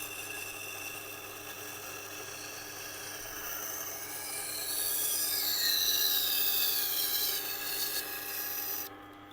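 A Global kitchen knife is drawn across a resin bonded diamond wheel in several passes, giving a steady high rasping grind that swells in the middle and stops abruptly near the end.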